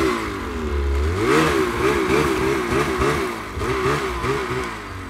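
A Ski-Doo Summit 850 snowmobile fitted with an MBRP exhaust revs hard at close range near a mine, its loud two-stroke engine climbing and dropping in repeated surges.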